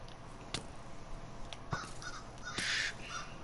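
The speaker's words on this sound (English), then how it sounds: "You hear that guy? The crow?" Crow cawing in Minecraft, a few sharp, separate caws spread across a quiet moment, with one louder, longer call near the end and no talk.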